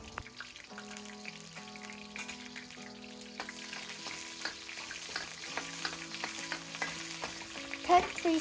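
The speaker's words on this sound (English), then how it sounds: "Take 3 stalks of lemongrass, brush them gently to release their oil and drop them into some hot oil." Lemongrass stalks drop into hot oil and fry with a steady sizzle, joined by light stirring clatter and soft tonal background music throughout, ending with a few sharper clinks.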